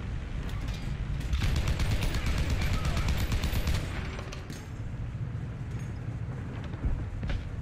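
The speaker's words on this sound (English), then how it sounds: "Heavy machine gun." Heavy machine gun firing in the War Thunder video game, a dense rapid burst for several seconds that then thins into scattered shots and a few louder booms.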